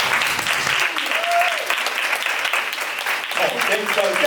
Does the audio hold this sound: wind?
no